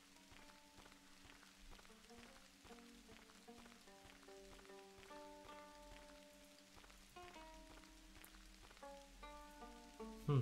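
Steady rain patters through a video game scene, a constant soft hiss running the whole time beneath sustained musical tones.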